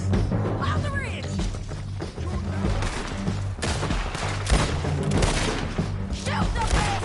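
Dense gunfire from a Red Dead Redemption 2 shootout, with rapid overlapping shots and booms forming a continuous loud barrage while voices shout over it.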